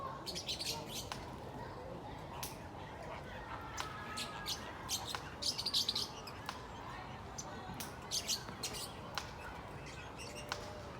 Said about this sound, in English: Yeah, they're tiny parrots.